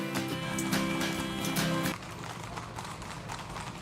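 A ridden horse's hooves clop in a quick, running rhythm. At first the hoofbeats sound over loud music, then they continue fainter and more muffled.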